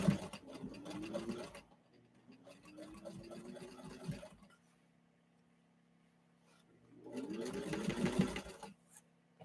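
A 1934 Singer 15-91 sewing machine stitches through leather in three bursts of close, steady mechanical whirring, separated by a pause in which only a faint low hum remains.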